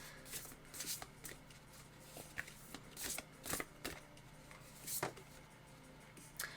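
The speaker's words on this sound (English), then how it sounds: "This deck is always so hard to shuffle for my hands." Close, quiet riffling and slapping of a tarot deck being shuffled, coming in irregular bursts with soft pauses in between.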